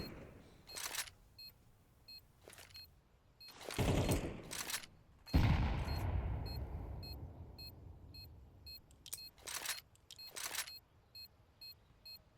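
An MP9 submachine gun fires in a competitive match of a first-person shooter: a few sharp short bursts, then a longer spray with a ringing tail, followed by scattered quick shots.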